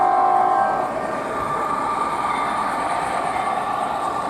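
A G-scale model train's rumbling diesel engine sound effect runs steadily, starting slightly louder, with a faint hum and no voices.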